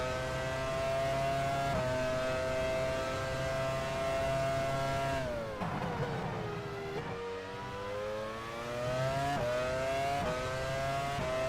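Formula One car engine from the F1 Challenge 99-02 racing game at the 2000 Australian Grand Prix, a loud sustained high whine with pitch shifts up and down as it revs through gears, no talking.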